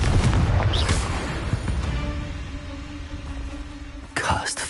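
A Confringo fire spell in Hogwarts Legacy bursts with a loud, deep boom at the start that rumbles and fades, followed by a second sharp blast near the end.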